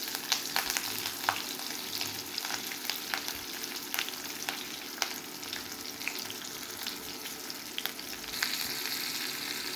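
Green chillies sizzle and crackle in hot oil with garlic, curry leaves, ajwain, fennel and cumin, a steady close frying hiss dotted with sharp pops, no talk.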